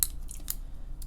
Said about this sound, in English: Scissors are okay.